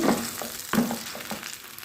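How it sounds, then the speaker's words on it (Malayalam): Mashed ripe banana sautés in ghee in a pan, a soft sizzle broken by a few scraping stirs of a spoon, heard up close without any talk. "നമുക്കിതൊന്ന് വഴറ്റിയെടുക്കണം കേട്ടോ നെയ്യിൽ"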